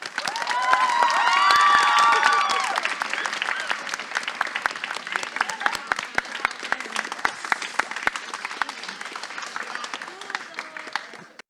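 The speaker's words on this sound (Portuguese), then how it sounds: "Palmas para Gabriele, gente." After a spoken-word poem at a poetry podcast recording, the audience gives loud applause with some cheering, swelling early and then thinning into scattered, sharp individual claps as it fades.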